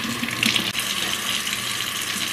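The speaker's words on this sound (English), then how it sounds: "Rinse the hose out" Water gushes steadily from a tap or hose while a hose is rinsed out at a Panama City Beach outing, a close, continuous splashing rush with no talk.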